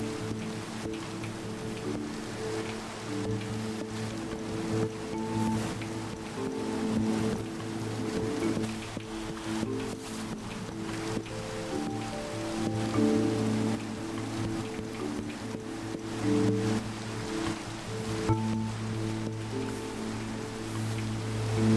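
Steady rain pouring in the video game Minecraft, a constant close hiss under soft in-game tones and ambient notes, with no talk.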